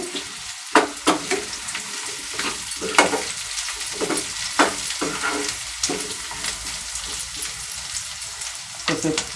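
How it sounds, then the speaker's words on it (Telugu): Raw plantain and onion fry in oil in a pan, giving a loud, continuous sizzle broken by stirring scrapes and spattering pops, close up. "ఉల్లిపాయ పచ్చి అరటికాయ ఫ్రై అవుతాయండి"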